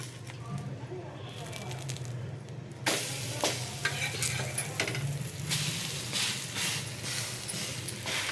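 Food sizzles and fries in a pan over a medium flame, quiet at first, then jumping to a busy crackle with stirring and pressing scrapes, while a person talks over it.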